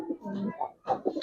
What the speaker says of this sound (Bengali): এটা একটা বিডার কবুতর